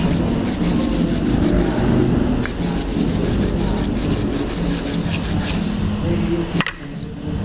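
A stiff brush scrubs front brake pads during installation, close and loud: steady, fast back-and-forth rasping strokes run almost continuously, with a brief sharp knock near the end before the scrubbing resumes.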